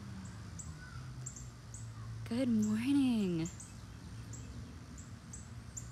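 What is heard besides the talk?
birds chirping outdoors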